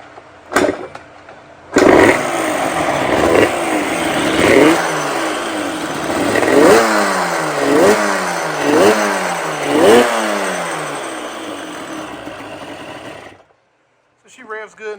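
A Yamaha Banshee ATV engine sits close by, revving in a series of rapid rising-and-falling blips over a steady idle, loud throughout before cutting off near the end.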